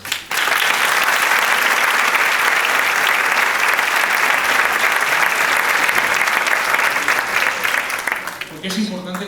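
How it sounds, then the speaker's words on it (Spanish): A festival audience bursts into loud, sustained applause that fills the space for about eight seconds before it tapers off, with a voice briefly emerging near the end. "Y les voy a pedir un aplauso."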